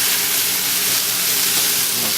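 Chicken pieces sizzling in a pan over medium-high heat for a prosciutto and sage cream sauce dish, giving a steady, loud, close hiss and crackle that runs throughout with no talking.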